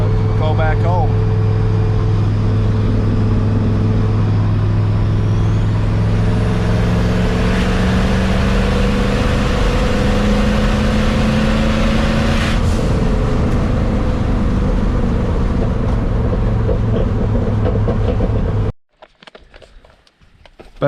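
A turbocharged Mopar 360 V8 in a Dodge D150 pickup drones steadily from inside the cab while driving, with a low engine hum and road noise, a voice talking over it, before it cuts off near the end.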